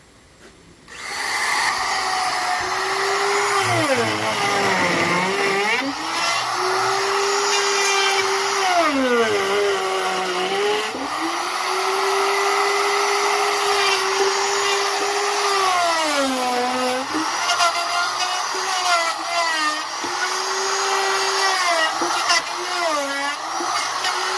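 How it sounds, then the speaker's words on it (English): An electric router cuts corners into a round log with a loud, steady high whine that sags in pitch each time the bit bites deeper into the wood, then recovers, continuing for the full stretch. "I'm going to shallow up the router for the first cut"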